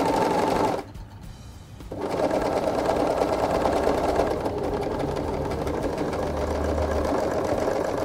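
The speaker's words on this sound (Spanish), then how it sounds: "Sigo cosiendo y corto." A sewing machine stitches faux leather with piping set between two fabrics, running as a steady close whir that briefly drops away near the start and then continues evenly.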